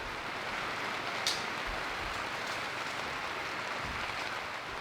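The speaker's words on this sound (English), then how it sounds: "it's raining crappy out, but Ryan's still getting it done." Steady rain falls outside on an off-grid homestead build site, a constant soft hiss with a brief sharper patter, heard close and alone without talk.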